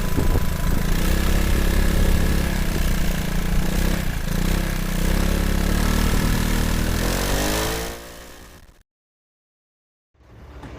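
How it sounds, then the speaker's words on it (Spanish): A 2021 Piaggio Beverly 300 HPE scooter's exhaust recorded up close, a steady loud single-cylinder drone with a slight rev change before fading out, a brief silence, then the engine returning. "Y aquí os dejo una toma breve de sonido directo captado del tubo de escape."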